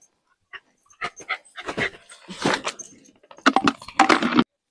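A farm dog being taken along to a plantation pants and whimpers in short, uneven bursts, close by and moderately loud, with a faint jangle between breaths and no talking.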